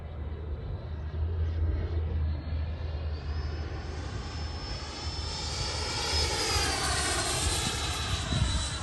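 An HSD T-33 RC model jet flying its downwind leg, a steady loud whining roar passing with a rising tone that shifts as the plane moves past, with no talk.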